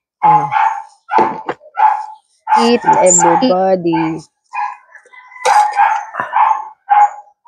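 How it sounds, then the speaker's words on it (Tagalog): A dog barks loudly and repeatedly at close range in a home, in sharp bursts that alternate with and overlap a person talking. "Kasi maingay masyado yung aso."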